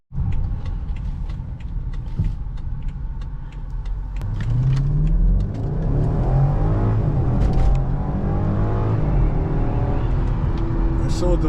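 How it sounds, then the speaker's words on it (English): A turbocharged car accelerating hard, the engine note climbing steadily through the gears in a loud, close, rising roar, with quieter clicks and rumble before it takes off. "As soon as them turbos kick in, it just shoots you right back in your seat."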